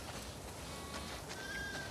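Sheep bleat in The Last of Us Part II, thin wavering cries that sit faintly over a dense, steady wash of game ambience.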